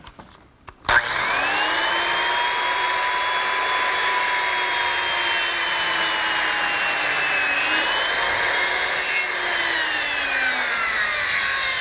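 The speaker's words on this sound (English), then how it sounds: "I'm going to use a circular saw, make a series of passes through" A circular saw cuts a notch into a wooden gazebo post, one long continuous pass with a loud, steady high whine that starts abruptly after a brief quiet moment and holds at a constant pitch.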